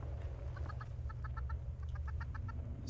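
A chicken in the Fallout 76 video game clucks in quick rhythmic bursts of short notes, moderately near, over a steady low background hum.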